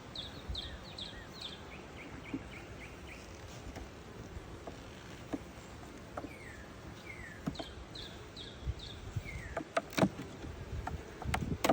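A dense, low buzzing of many bees humming in a hive fills the background, with occasional soft knocks and faint chirps scattered throughout.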